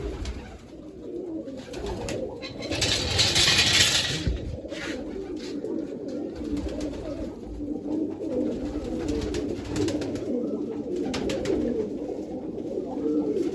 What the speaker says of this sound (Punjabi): ਲਓ ਜੀ ਕਬੂਤਰ ਨੂੰ ਆਪਾਂ ਪਾਣੀ ਦੇਤਾ